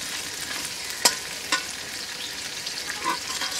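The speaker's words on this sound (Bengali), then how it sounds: "এভাবে আমি বেশ কিছুক্ষণ নেড়ে ছিঁড়ে আলুগুলো ভেজে নেব" Potatoes fry in hot oil with a steady sizzle, punctuated by a couple of sharp scraping clicks as a spatula stirs them.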